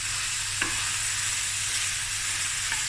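Spices fry for sausage fried rice in a close, loud, continuous sizzle and hiss, with a couple of faint scrape-like stirring touches. Nobody talks over it.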